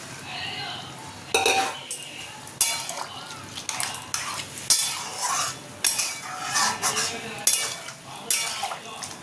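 Soaked, well-boiled chickpeas tipped into hot oil and stirred, bursts of sizzle with repeated clattering spoon-on-pan scrapes, close and fairly loud, no voices.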